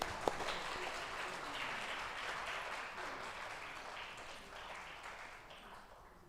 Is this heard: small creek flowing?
no